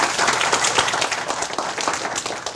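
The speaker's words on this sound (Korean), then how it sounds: "박수 쳐야 돼요." Audience applause at an insurance sales lecture, a dense steady patter of many hands clapping close by, filling the whole stretch without letting up.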